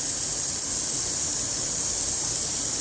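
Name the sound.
cumin and mustard seeds sizzling in hot oil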